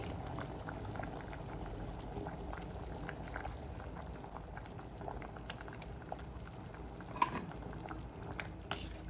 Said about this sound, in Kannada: ಇಷ್ಟು ಚೆನ್ನಾಗಿ ಕುದಿ ಬರ್ತಾ ಇದೆ